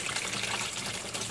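Water drains steadily out of an aquaponics bell siphon on a hillside farm, a continuous close rushing trickle and gurgle with no voices.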